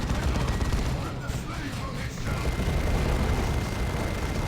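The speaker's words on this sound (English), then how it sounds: "Assault Cannon Barrage going down onto the CSM." Assault cannon barrage from a Dreadnought pounding Chaos Space Marines in a Warhammer 40K video game, a dense, continuous roar of rapid gunfire filling the whole moment at steady loudness.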